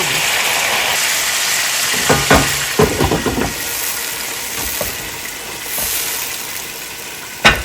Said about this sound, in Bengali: আমি এখন এটা দিয়ে দেবো আমার একটু আলু আর এই পাশে আমার পেঁয়াজটা মোটামুটি ভালোই ভাজা হয়ে গেছে